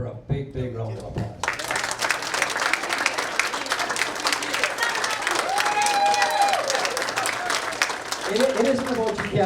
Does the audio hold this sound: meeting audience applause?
yes